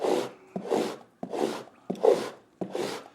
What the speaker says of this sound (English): it's going to make sure that it sands everything down nice and even